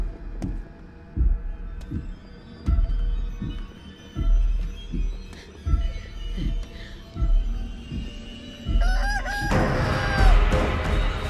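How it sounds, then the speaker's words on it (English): A giant chicken in the video game Chicken Feet lets out a loud rooster crow, answered by clucks over a steady rhythmic thumping like a heartbeat that pulses throughout. "Isa ka lang manok! Manok ka lang!"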